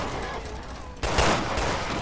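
Gunfire in the video game Resident Evil Revelations 2, a sudden burst of sharp, loud shots cutting in halfway through and continuing in a rapid rattling volley over the game's ambient background.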